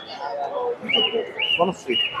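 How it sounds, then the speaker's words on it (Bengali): Pigeons at a pigeon market, several short cooing and chirping calls in quick succession, close and fairly clear over a faint background murmur. "এখানে আমাদের এক ভাই উনি কিছু লক্ষা কবুতর নিয়ে আসছে"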